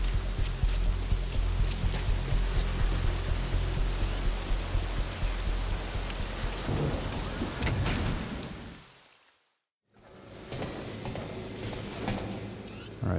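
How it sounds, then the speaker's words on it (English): Steady heavy rain hisses and patters at Mother Base in Metal Gear Solid V, a dense continuous wash that cuts out abruptly to silence, then returns more faintly as if heard from indoors. "like it's started to rain"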